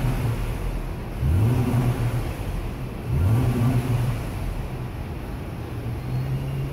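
A car engine revs twice as the throttle is snapped from idle: two quick rising surges, each settling back to a steady idle drone, close by with no talking.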